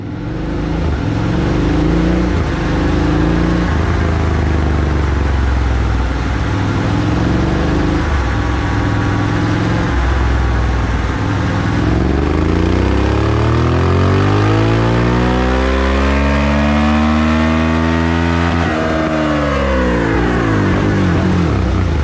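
A Suzuki V-Strom 650 motorcycle engine runs loud and close on a dyno with a new ECU flash, revving hard and climbing steadily in pitch through a long pull before cutting back.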